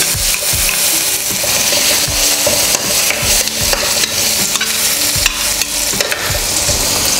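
Chicken stir-fried in an iron wok over a high-pressure stove, a loud roaring sizzle with rapid, rhythmic clanking scrapes of the spatula against the metal, close and continuous.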